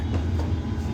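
An empty passenger train, engine at the rear, rumbles along in reverse with a steady low roar and faint rhythmic clatter, continuous and fairly close, with no voices.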